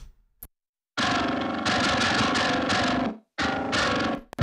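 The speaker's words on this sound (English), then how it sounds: "the 200 hertz and up, which is running through the BlackSun, which adds that gnarly kind of distortion and grit and all that" Heavily distorted electric guitar played through an Audio Assault BlackSun amp sim handling the upper range, gritty chugging chords in two loud sustained blocks separated by short silences, with an isolated click at the start.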